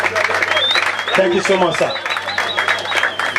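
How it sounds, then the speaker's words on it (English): An audience at a university sports opening ceremony applauds steadily through the moment. A speaker's voice cuts in briefly over the clapping. "Please, a round of applause for him."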